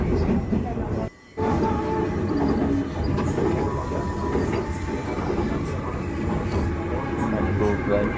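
A Kolkata metro train runs along the line, giving a continuous loud rumble with rattling carriage noise and faint rhythmic clatter, steady throughout apart from one brief dip.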